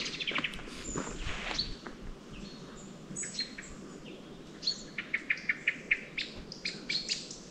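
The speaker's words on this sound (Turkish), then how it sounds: "Çok kuş var arkadaşlar şu anda." Many birds chirp and sing among bushes on hillsides after days of rain near Datça, with bright overlapping calls, a burst early on and then a run of quick repeated tweets close by over soft background hiss.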